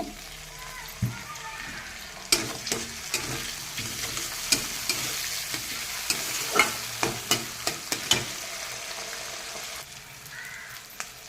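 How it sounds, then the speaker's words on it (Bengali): Chopped tomato and onion fry in a pan with a steady close sizzle and a run of sharp scraping stirs in the middle, as a voice talks at moments and distant crows caw faintly. "ভিতরে দিয়ে দেবো আমি একটু টমেটো কুচি"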